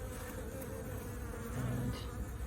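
Honey bees buzzing in a hive setting while worker bees swarm around a lone queen, a dense, steady, low insect drone that stays close and continuous throughout.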